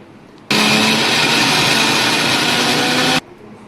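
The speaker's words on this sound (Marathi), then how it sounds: "लसूणच्या तीन चार पाकळ्या आणि आल्याचं थोडं तुकडे थोडं जिरं हे आपण आता मिक्सरच्या भांड्यात वाटून घेऊया" A mixer grinder grinding garlic, ginger and cumin whirs loudly for about three seconds with a steady motor drone, starting and stopping abruptly amid quiet surroundings.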